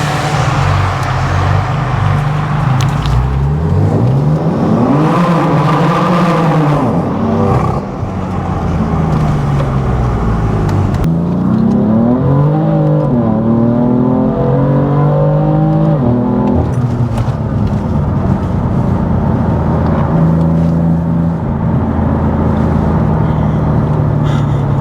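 BMW M4 with a full exhaust system accelerates hard through the gears, its loud droning engine note rising and dropping at each shift, heard from inside the car over a constant roar of road noise.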